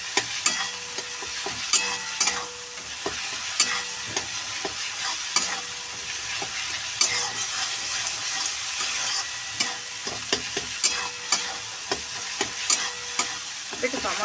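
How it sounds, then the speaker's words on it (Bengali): Spice masala, loosened with a splash of water, is stir-fried in a pan for a prawn-head curry, a continuous sizzle punctuated by frequent rhythmic scrapes and taps of the spatula against the pan. "একটু জল দিলে মশলাটা পড়ে না মশলাটা কষানো ভালোভাবে হয়ে যায়"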